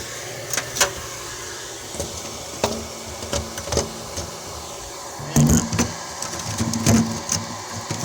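The lid of an automixer closes on a cold startup with scattered clicks and knocks, then a heavier clunk partway through, followed by more rattling taps, close by and moderately quiet.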